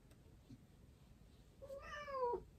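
A cat lets out one clear, rising-and-falling meow near the end, quiet and close, after a mostly silent stretch.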